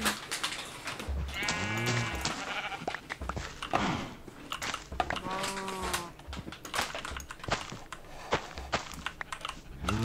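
Repeated cartoonish Minecraft sheep bleats sound over constant soft clicking and tapping, with a couple of longer wavering bleats standing out.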